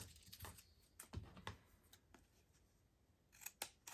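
Scissors snip through paper while pocket journal pages are made, giving a handful of short, sharp cuts spread across the moment, fairly close and quiet, with no talking.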